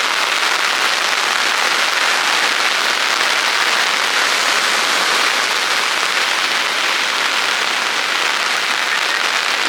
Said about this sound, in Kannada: ಮಳೆ ಬಪ್ಪು ಸ್ಟಾರ್ಟ್ ಆಗಿದೆ, ಜೋರು ಮಳೆ ಬಂದು